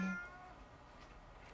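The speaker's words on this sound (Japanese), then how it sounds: "猫が鳴いてます。" A cat gives a single short meow right at the start, faint and somewhat distant, and then the sound fades to quiet room tone.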